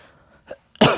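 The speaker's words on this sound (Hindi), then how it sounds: "सॉरी दोस्तों, खांसी आ गई।" A single sharp cough close to the microphone, preceded by a faint throaty sound, in an otherwise quiet moment.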